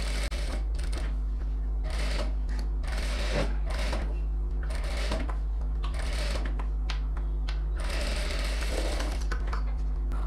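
Silk pavadai lining running through a sewing machine as it stitches around a neckline, a steady close mechanical whir with brief pauses and restarts throughout.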